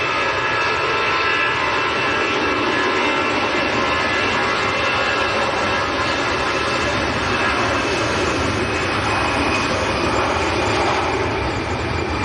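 An easyJet jet airliner bound for the Isle of Man makes a loud, continuous engine roar with a broad windy rush that stays steady throughout, heard alone without talk, at Manchester Airport on a windy day.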